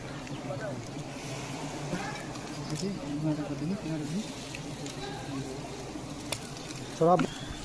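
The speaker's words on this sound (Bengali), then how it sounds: "দেখুন একটা চাক কাটা চলছে কাজ গাছের ওপরে।" Bees buzz in a steady, close swarm hum around a honeycomb being cut from a jujube tree during honey collection, with faint birdsong and brief voices in the background.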